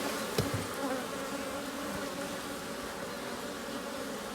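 Honey bees buzz steadily around an opened hive during inspection, a dense, continuous insect drone close by with a brief knock near the start.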